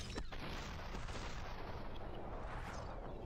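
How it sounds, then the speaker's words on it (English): Gunfire in the video game SuperHot, dense overlapping shots and booms forming a continuous barrage with a sharp crack near the start, loud and busy throughout. "There are so many gunshots going on and I'm just trying to live."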